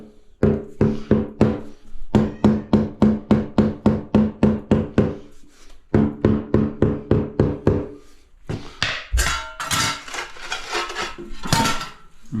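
Rapid series of sharp rubber-mallet taps on tiles laid on a screeded shower base, about twenty strikes in quick bursts with brief pauses, followed by scraping and shuffling handling noises.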